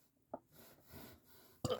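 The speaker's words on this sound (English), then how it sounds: "Ugh, Lord, I keep burping." A man who has just eaten lets out two short, close burps about a second apart, with quiet breathing between them in a still room.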